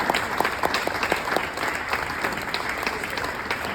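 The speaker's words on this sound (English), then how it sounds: "So please, once again, let's give a round of applause to Gordon, to Mick, to Simon, to Dean and to" Round of applause for charity baton ride cyclists, a crowd clapping steadily with some individual sharp claps standing out near the front.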